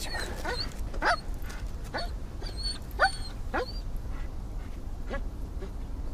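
Several sharp barks and yips from dogs, scattered irregularly over a few seconds against a rumbling, noisy background.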